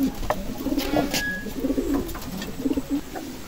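Racing pigeons coo softly inside their loft, repeating low, throaty burbling calls in short clusters against a quiet background.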